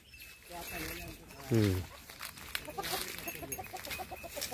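A rooster with reversed feathers clucks in a short, loud, harmonic burst amid village farmyard bird chatter in Achara, with other faint clucks and background noise around it.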